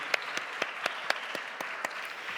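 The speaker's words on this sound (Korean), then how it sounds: "우리 함께 박수하며 우리 모든 교사분들 축복하겠습니다." Church congregation claps in unison for its teachers, about ten sharp, evenly spaced claps heard clearly in a quiet room.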